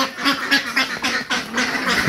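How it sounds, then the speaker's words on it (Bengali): Village ducks quack in a rapid series of loud, close calls, several birds overlapping in a busy morning chorus. "ওই যে হাঁস হাঁস হাঁস"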